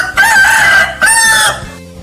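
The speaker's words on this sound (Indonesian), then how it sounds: "suara ayam berkokok" A rooster crows loudly nearby, two strong drawn-out calls in quick succession, clear and alone.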